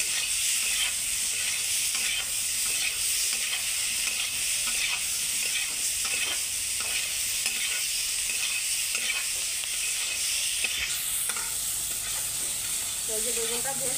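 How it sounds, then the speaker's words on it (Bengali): Brinjal frying in oil with turmeric and salt sizzles loudly and steadily up close, with a spatula scraping and turning the pieces through the hiss, no talking. "হলুদ আর নুন দিয়ে বেগুনটাকে দিয়ে একটু লাল লাল করে ভেজে নেব।"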